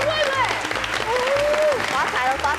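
Studio audience applause on a television game show, a short burst of clapping mixed with overlapping excited voices and chatter.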